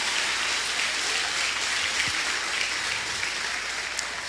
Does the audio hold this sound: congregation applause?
yes